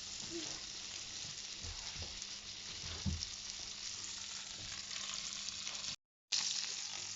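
Lamb frying gently in a pan over lowered heat, a soft continuous sizzle with faint crackles and a couple of light stirring knocks, briefly cut to silence near the end.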